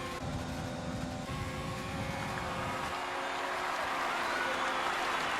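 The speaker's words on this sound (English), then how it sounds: "The crowd is really loud through the first sector." Loud crowd roar at Suzuka during a Japanese Grand Prix race in the F1 2020 video game, a steady dense wash of noise mixed with engine sound, the crowd continuous throughout.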